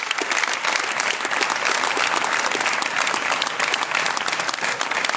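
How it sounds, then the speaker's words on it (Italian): Sustained dense applause from a large crowd at a political event, steady and loud throughout without voices. "un grande applauso va a un grande uomo che non è qua presente"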